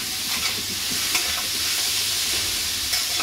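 Elephant foot yam stems and shrimp fry in a pan, giving a steady, close sizzle with a few soft stirring knocks and no voices.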